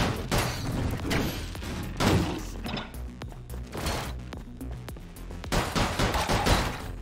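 Rapid cannon gunfire in the sci-fi action game Orbital Bullet, with bursts of sharp repeated shots and mechanical clatter coming in waves over a dense, loud game mix.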